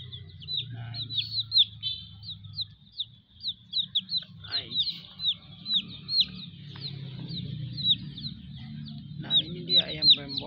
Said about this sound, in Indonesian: Nah ini dia ayam rainbow atau ayam pelangi